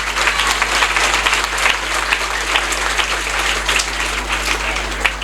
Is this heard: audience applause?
yes